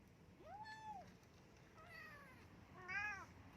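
A white cat called Boss White meows three times, quiet and fairly close: one long drawn-out mew, then two shorter, higher calls after a pause.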